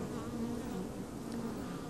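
Honeybees buzz steadily at a farm beehive, a dense, continuous hum of many insects close by with no voices.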